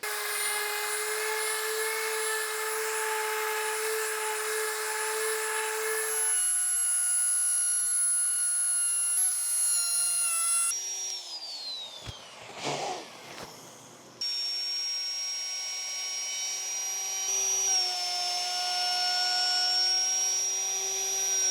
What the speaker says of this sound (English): we're gonna go ahead and sand the heck out of this. Then we're gonna give it a nice round over on all the edges